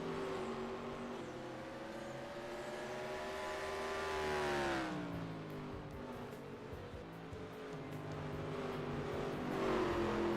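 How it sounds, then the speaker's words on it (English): Two red race cars battling for the win, engines droning and rising in pitch as they approach and pass, a sustained moderately distant roar that swells and fades with no talk over it. "2 red cars fight for the race win here today"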